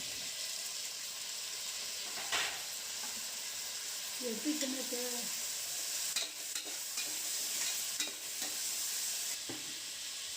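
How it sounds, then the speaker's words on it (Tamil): Garlic cloves and tomatoes sauté with crackled curry leaves in a pan, a quiet steady sizzle broken by occasional stirring clinks and scrapes, with a faint splash of water partway through. "ஒரு 20 பூண்டு பல், அப்புறமா ஒரு 6 தக்காளி சேர்த்து நல்லா வதக்கிக்கலாம்."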